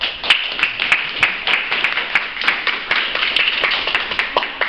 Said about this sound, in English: how about we give Carolyn a round of applause?